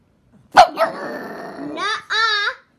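One sharp, loud dog bark close by in a room, followed by a rough, harmonic whine-like vocal sound and a pair of higher drawn-out tones.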